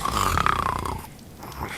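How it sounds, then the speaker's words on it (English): A man snoring during a night in the late Ming Dynasty setting of The Hungry Lamb, a loud, close, rasping inhale with a nasal buzz that fades into a quieter breath. "He dozed off fast, and soon enough I heard his snoring."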